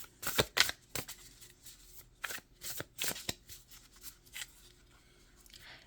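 A deck of tarot cards is shuffled and drawn, giving close riffling bursts and soft slaps in an irregular rhythm, quiet and with no voice.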